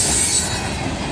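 A freight train of boxcars and tanker cars rolls past close by, loud and continuous, with heavy rumbling wheels and a high metallic squeal.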